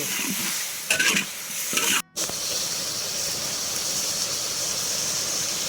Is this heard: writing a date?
no